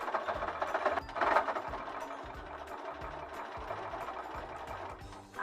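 A sewing machine stitches around the edge of a Christmas elf hat made of fabric, with a faint, steady rhythmic stitching and a few brief, brighter handling sounds.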